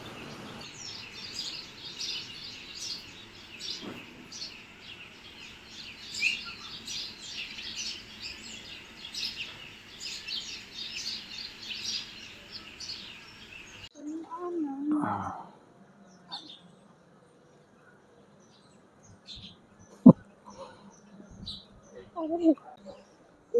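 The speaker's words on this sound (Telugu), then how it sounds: "జస్ట్ మీరు ఆ బర్డ్స్ సౌండ్ వినండి," Birds chirp outside a village house among trees in the evening, light scattered calls under a continuous insect-like hiss, with a voice talking partway through.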